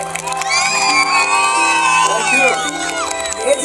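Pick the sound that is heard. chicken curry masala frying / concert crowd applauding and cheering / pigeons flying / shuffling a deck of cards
concert crowd applauding and cheering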